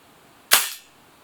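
A single sharp shot from a WE C96 airsoft gas blowback pistol running on propane-type green gas: a loud, close crack with a short bright decay, alone in near silence.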